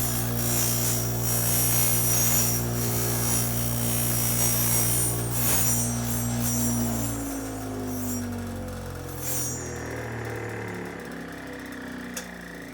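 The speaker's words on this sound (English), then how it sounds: "So I'm going to turn on the buffing wheel" A buffing wheel deburrs the cut end of a golf shaft. A loud, steady motor whine and hum drones throughout with grinding contact noise, then the pitch drops and fades as the wheel slows toward the end.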